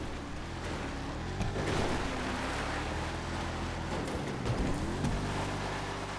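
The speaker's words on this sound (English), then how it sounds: "it is climbing, struggling here a bit to find the grip" Declasse Mamba sports car in GTA Online labors uphill on a dirt slope, its engine droning steadily with wavering pitch under dense road and wind rumble, loud and continuous with no talk.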